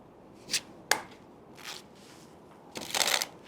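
Playing cards handled during a card trick, giving a few separate brisk riffles and snaps spaced apart, ending in a longer, louder shuffling burst, close and clear with no talking.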